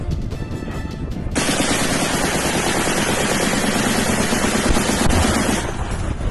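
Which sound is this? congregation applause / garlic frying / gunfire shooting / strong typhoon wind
gunfire shooting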